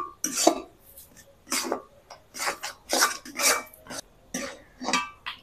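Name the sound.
continuous stirring of semolina dough in a pan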